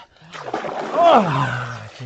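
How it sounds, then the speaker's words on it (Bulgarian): Cold water splashes during an outdoor morning wash in the wild, a short burst of sloshing and splatter mixed with a voice. "си правя душ, сутричен душ, за да се каля във водата"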